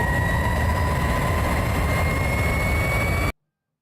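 A jet engine runs at a loud, steady roar with a high whine on top, continuous and close, then cuts off abruptly into silence.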